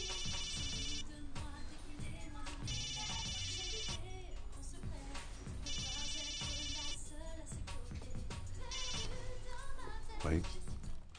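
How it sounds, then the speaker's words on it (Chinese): A telephone rings indoors in a TV drama scene, its electronic ringtone repeating in four short melodic bursts separated by pauses, with voices and background sound in between. "你电话响了。"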